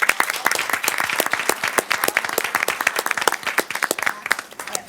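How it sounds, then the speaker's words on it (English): Applause at a school board business meeting honoring Booker T. Washington High School: a room of people clapping steadily with sharp, distinct claps, moderately loud and lasting several seconds, no talking over it. "So let's give Booker T."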